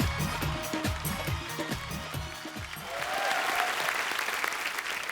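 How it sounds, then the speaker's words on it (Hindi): Studio audience applause on a comedy talk show stage, steady dense clapping filling the whole stretch, swelling slightly louder toward the end as a film director is welcomed. "आप सबकी तालियों के बीच इनवाइट करना चाहूंगा मिस्टर उमंग कुमार को।"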